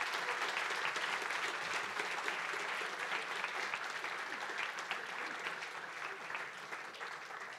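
An audience at a Speck&Tech tech talk applauds in sustained, dense clapping that stays fairly loud and even throughout, then tapers slightly toward the end, with no voices over it.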